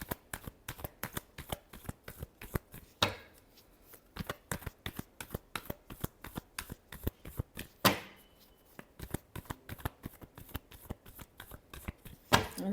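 Tarot cards are shuffled by hand up close, a long series of quick rhythmic riffling snaps and taps, with two louder bursts partway through.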